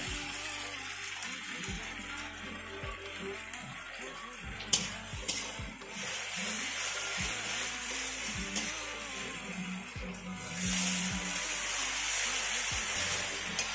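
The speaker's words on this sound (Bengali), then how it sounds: "তেল ছাড়ানো পর্যন্ত আমি এটাকে একটু কষে নেবো মশলাটাকে" Spice paste with ginger paste and a little water cooking in a pan, a soft wet sizzle with scraping and stirring knocks, fairly quiet and without speech.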